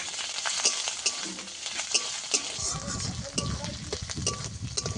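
A large tomato fries in a pan with a continuous sizzle, broken by repeated scraping and clattering as it is stirred close by, with no voice.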